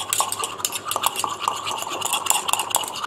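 A silicone spatula stirs homemade night cream in a container, producing a quick repetitive scraping and tapping rhythm, close and fairly loud with no talking.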